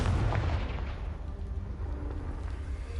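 A Confringo spell blast in Hogwarts Legacy blows up a pile of debris, giving a loud booming burst that rumbles and decays into a long, noisy tail.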